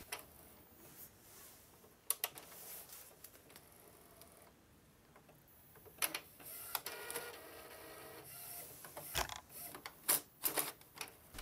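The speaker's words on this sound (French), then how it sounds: "l'imprimante emballe partout." An Epson printer malfunctioning while printing on a CD tray: steady mechanical whirring broken by repeated clicks, clunks and grinding bursts, growing busier and louder toward the end, with no talking.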